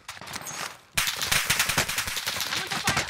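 Rapid automatic gunfire in Call of Duty: Warzone bursts in suddenly after a quiet second, then keeps up as a loud, dense stream of close shots with no talking.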